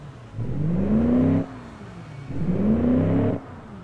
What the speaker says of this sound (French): il commence à ronronner comme un vrai V8